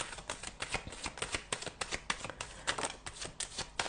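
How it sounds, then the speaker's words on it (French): Tarot cards being handled and shuffled, a quick run of crisp, close flicks and riffles in an uneven rhythm, soft overall with no voices. "Je vais tirer une dernière carte."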